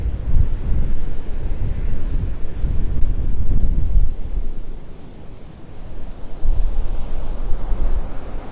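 Strong wind roars across Vanderbilt Beach in North Naples, Florida during Hurricane Helene, buffeting the microphone in heavy rumbling gusts that briefly ease midway before surging again.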